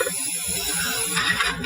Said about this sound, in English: I'm going to just spray the edges,